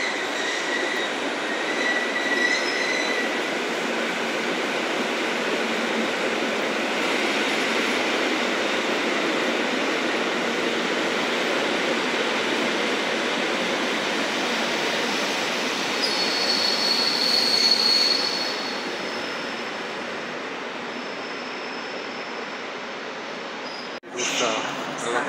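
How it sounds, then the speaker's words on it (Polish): Polo Regio passenger train bound for Oświęcim being shunted at Kraków Główny ahead of coupling an EP09 electric locomotive, giving a steady, loud rumble of rolling rail cars with a brief high wheel squeal late on before it drops off. "Odstawia się pociąg do Oświęcimia,"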